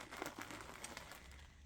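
Crinkly rustling of a torn plastic bag holding yarn skeins as it is handled, quiet and close, a continuous crackle of crumpling plastic with no one speaking.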